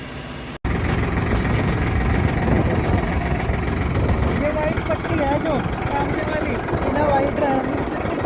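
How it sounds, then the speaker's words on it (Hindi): A tractor engine on a village road starts with a sharp click, then runs with a steady low diesel chug and rattle throughout, loud and close, while people talk over it. "तो ट्रैक्टर स्टार्ट हो गया है, भैया लेके चल रहा है, चलिए।"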